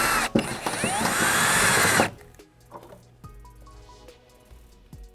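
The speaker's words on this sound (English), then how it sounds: "take a 1/4 inch drill bit and our drill and drill into the first layer of sheet metal" A power drill with a quarter-inch bit whines loudly for about two seconds as it bores into the sheet metal of a Subaru WRX trunk lid, then stops, leaving faint clinks and rattles.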